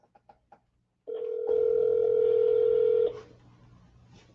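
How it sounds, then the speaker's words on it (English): A few short keypad beeps, then a steady telephone tone swells in as an outgoing call is placed, holding for a couple of seconds before cutting off, heard through a phone speaker. "So let's call them first, okay, to see if they even pick up the phone before I start storytelling."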